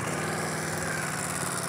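A 2023 Ducati Panigale V4R engine held against its soft 4,000 RPM rev limit in neutral gives a loud, close, steady buzzing drone with a slight rhythmic flutter and no voices.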